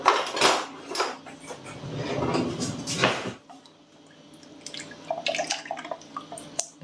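A wooden spoon stirring pizza dough or filling in a bowl, with scraping, knocking strokes and wet clattering at close range, then lighter taps and clinks.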